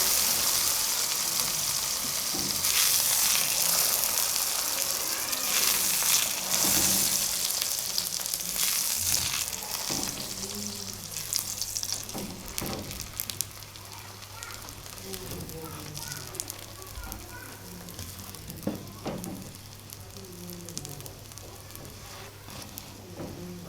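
Paratha made with butter and radish (mooli) sizzling and frying steadily in a pan, a continuous crackling hiss that stays fairly even throughout with faint clinks and some talk underneath.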